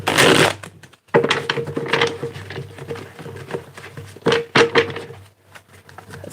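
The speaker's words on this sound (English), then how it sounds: "Let me get 4 more shuffles." Tarot cards are shuffled by hand in several short bursts of riffling and tapping, close and fairly loud, separated by brief pauses.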